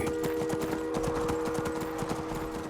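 Steady clip-clop of horse hooves at a trotting rhythm in the video game Skyrim, over a constant background hum, fairly faint and continuous.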